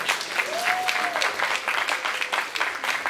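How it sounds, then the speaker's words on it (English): Applause fills the hall throughout at an anniversary awards celebration, a dense steady clapping crowd, with a brief whistle-like tone near the start. "Give them a round of applause."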